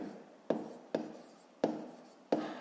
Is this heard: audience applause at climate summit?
no